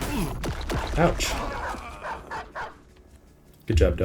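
Dogs in a video game barking and yipping in quick, sharp bursts, several close barks early, then a pause and a loud final bark, with someone talking between them.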